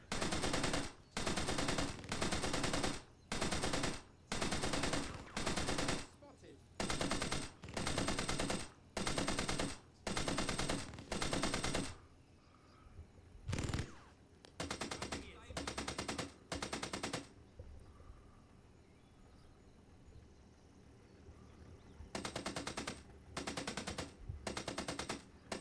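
Gunfire from a video game rattles in rapid automatic bursts, loud, close and regularly spaced, then grows sparser and quieter with a few single cracks and a long lull before more bursts return near the end.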